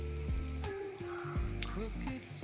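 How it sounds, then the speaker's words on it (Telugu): A tempering of urad dal, cumin, mustard seeds, dried red chillies and curry leaves sizzles in hot oil, with sharp crackles and spattering up close, while a voice talks over it. "మినపప్పు, జీలకర్ర, ఆవాలు, ఎండుమిర్చి, కరివేపాకు పోపేసాను."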